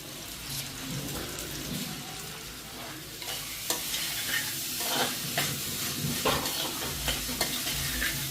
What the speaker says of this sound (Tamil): வெங்காயத்தை முதல்ல போட்டு நல்லா பொன்னிறமாக வர்ற வரைக்கும் நல்லா வதக்கிக்கிடணும்